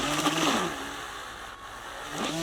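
A Zip Trim cordless grass trimmer bogs down in grass, its motor whine sliding down in pitch and rising again as the revs sag and recover. It runs close and steady through the clip with no voices.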